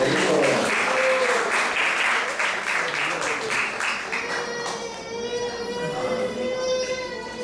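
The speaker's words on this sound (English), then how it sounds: "let's give a round of applause for Goporaj Prabhu" A temple congregation at an ISKCON Sunday class in Atlanta gives a round of applause, dense steady clapping that slowly thins out, with voices rising beneath it near the end.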